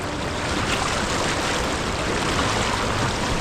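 The Nandakini river in the Himalayan foothills rushes loudly and steadily while being crossed, a dense broadband roar of flowing water with no pauses or voices.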